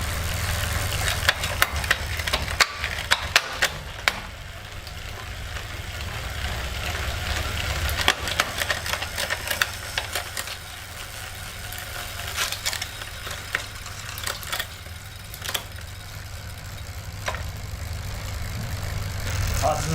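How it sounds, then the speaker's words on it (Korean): Shimano Dura-Ace 9200 rear derailleur shifting through several gears on a bicycle, a series of crisp metallic clicks and chain clatter over a steady drivetrain whir, close and continuous. "ちょっとじゃあ一気シフトやってみましょうかね。"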